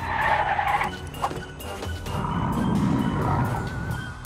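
Animated children's-show car pulling away with tires skidding and squealing, a steady loud screech giving way to a rumbling engine surge, with no talking.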